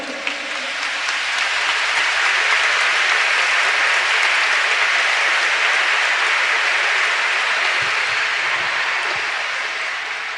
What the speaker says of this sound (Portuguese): Pode aplaudir então.